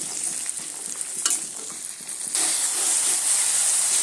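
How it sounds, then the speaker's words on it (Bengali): Green peas frying in a pan for a spicy semolina dish: a close, continuous sizzling hiss that grows louder and steadier partway through, with some light stirring clatter. "প্রথমে মটরশুঁটিটা ভালো করে একটু ভেজে নিচ্ছি"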